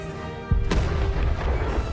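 Spaceship guns fire in a space combat game. A heavy boom opens the burst and a sharper shot follows, then a dense, sustained roar of fire and rumble, loud and close.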